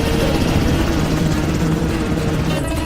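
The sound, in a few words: Black Hawk helicopter flying in film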